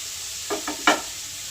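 Capsicum stir-fried in a pan for atta Maggi noodles: a soft, even sizzle with three quick spatula scrapes close by, the last one loudest.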